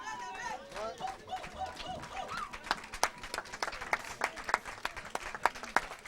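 A church congregation applauding and cheering after a sermon reading, starting with scattered voices and rising into rhythmic clapping that grows louder toward the end.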